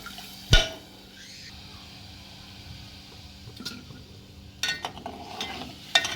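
Spiced buttermilk is stirred as it boils in a pot: a sharp knock against the pot near the start, a low simmering bed, then a few scraping, sloshing stirs toward the end.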